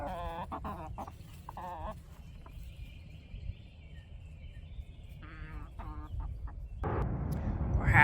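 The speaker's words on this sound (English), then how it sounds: "There's a chicken fight to establish that pecking order." Backyard chickens squabble over pecking order, with sharp squawks and clucks in bursts, a quieter stretch with a thin tone, then a louder scuffle at the end, all heard close and without talk.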